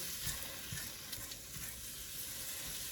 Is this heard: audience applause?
no